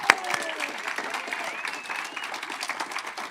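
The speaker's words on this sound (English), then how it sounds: "How about a round of applause for Terry?" An audience at an exhibit opening applauds with dense, steady clapping for several seconds, heard close and fairly loud, with a few voices mixed in.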